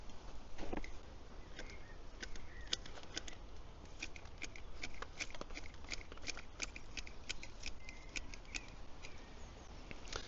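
Hand pruning shears trimming a topiary ball: a steady series of crisp snipping clicks at an uneven rhythm over a constant background hiss, close but faint, with no one talking.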